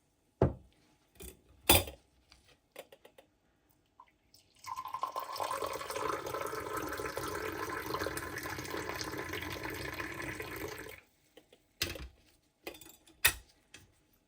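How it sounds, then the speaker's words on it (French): Sweetened mint tea is poured back into a teapot, a continuous splashing stream lasting several seconds, framed by clinks of glass and metal before and after. "Et je le repasse encore dans la théière."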